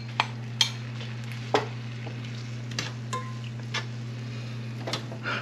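Sauce stirred into chicken thighs frying in a pan, with a few light scraping and clinking strokes over a steady low hum and faint sizzle.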